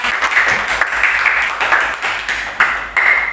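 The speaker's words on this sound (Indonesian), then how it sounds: "tepuk tangan untuk kelompok 3" Primary school students in a classroom clap together for a student group, a loud, close run of dense hand claps that carries on steadily from start to finish with a few sharper accents.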